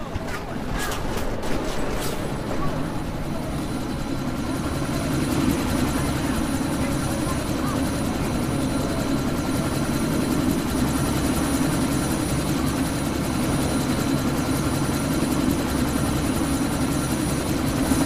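Helicopter in the video game Deus Ex: Mankind Divided, a loud, steady rotor roar with a low engine drone and a burst of gunfire at the start, running on continuously throughout.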